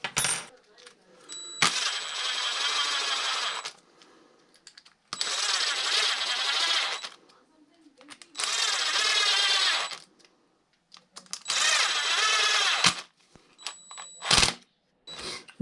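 A power tool drives socket head cap screws into a plastic rear diff on a Traxxas first-gen E-Revo, four close, loud whirring bursts of a couple of seconds each, separated by quiet pauses.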